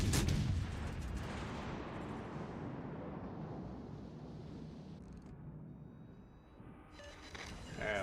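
Naval gunfire from warships in a World of Warships Legends battle, heard as a loud, dense rumble of heavy cannon blasts and booming impacts that carries on for the whole stretch, swelling at the start and again near the end.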